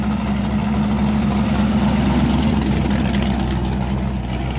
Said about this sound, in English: You can actually hear the cars coming into the show as well